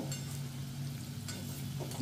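Potato finger chips fry in oil in a pan, giving a brief, close, steady sizzle with a light scrape near the end.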